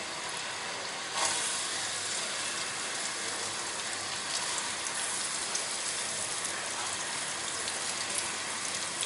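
Chopped onions fry in hot oil for a mutton pulao, a loud continuous crackling sizzle like heavy rain, with a brief stir-like burst near the start.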